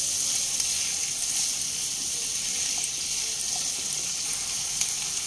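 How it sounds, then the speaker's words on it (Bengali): Diced onion fries in a pan over a medium flame while chilli fish is being made, giving a steady, soft, even sizzle with no one speaking. "একটা বড় সাইজের পেঁয়াজ এইভাবে চৌকো চৌকো কেটে রেখেছিলাম, দিয়ে দেব। পেঁয়াজও প্রায় মিনিট 2 মিডিয়াম ফ্লেমে ভেজে নেব।"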